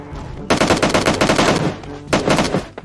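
Rapid automatic gunfire from a mobile shooter video game, loud and close, rattling in two long sustained bursts separated by a brief lull.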